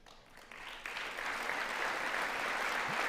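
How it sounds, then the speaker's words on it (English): Audience applause builds over a few seconds into steady, dense clapping from a large crowd at a political talk event, with no voices over it. "I love how they all need a minute to start clapping"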